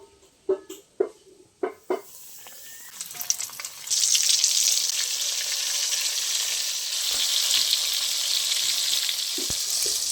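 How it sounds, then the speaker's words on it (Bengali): Pieces of Bombay duck (loitta) fish, coated in a lentil batter, go into hot oil one by one with a few soft knocks, then a loud, steady, hissing sizzle fills the rest. "তেলের মধ্যে দিয়ে দেবো একটা একটা করে।"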